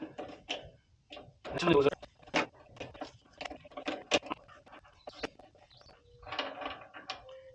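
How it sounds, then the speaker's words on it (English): Needle nose pliers work a grooved, crown-shaped nut loose on a trailer brake, giving a close series of irregular metallic clicks, scrapes and rattles, with brief louder bursts. "I usually take needle nose pliers because that nut's got grooves cut in it"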